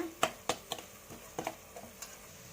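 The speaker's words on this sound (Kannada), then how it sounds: "ನೀವು ಚೆನ್ನಾಗಿ ಹಿಂಗೆ ಎಣ್ಣೆಲಿ ಫ್ರೈ ಮಾಡ್ಕೊಳ್ಳಿ" Chili powder frying in oil for a mushroom gravy, with a series of soft clicking stirs and faint sizzle, close but quiet and irregular in rhythm.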